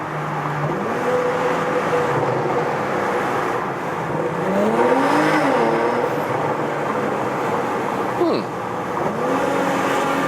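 A Porsche Macan GTS engine revs through a tunnel with the windows lowered, rising and falling pitch sweeps over a loud continuous road roar, heard from inside the cabin.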